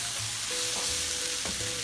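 Chicken and shrimp chow mein stir-fried in a pan instead of a wok, with a steady close sizzle, a few scraping stirs and a sharp clink near the end.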